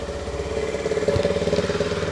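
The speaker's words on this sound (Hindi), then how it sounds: "एक बार इंजन स्टार्ट करते हैं। तो आइए सुन लेते हैं इसका एग्जॉस्ट।" A Honda CB350 motorcycle engine runs close by, its exhaust giving a steady, low, throbbing burble at idle that grows slightly stronger partway through, with no voices.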